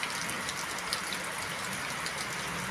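Steady rain falls on a rainy afternoon at a duck farm, a constant even hiss of drops and running water with no talk.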